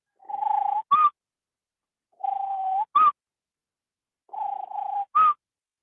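A person whistles an imitation of a tropical screech owl call in Panama: three clean, isolated phrases, each a steady hooting trill followed by a sharp higher note, with pauses between them.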